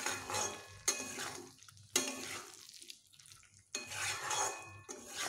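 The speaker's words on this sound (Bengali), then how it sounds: "এবার আমি ঢাকা খুলে এটিকে ভালো করে কষিয়ে নেব।" A spatula stirs and scrapes food in a pan that has just been uncovered, for sautéing. Brief bursts of sizzling and scraping alternate with quiet pauses, with occasional metallic clinks, close and fairly soft.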